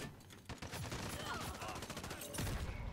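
Rapid bursts of shotgun and crossbow gunfire in Call of Duty: Modern Warfare crackle continuously, dense and sharp, with faint voices underneath.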